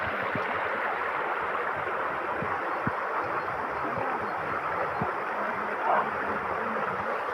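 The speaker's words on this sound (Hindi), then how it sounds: "ये पहाड़ के नीचे से चश्मा आ रहा है।" Natural spring water wells up from under rocks at the foot of a mountain and flows in a steady, unbroken rush of gurgling, nearby and constant throughout.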